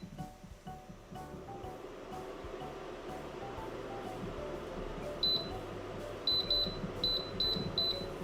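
Electronic beeps sound in a kitchen during cooking: one high tone, then a run of short, evenly spaced beeps in quick pairs over a steady rushing background noise.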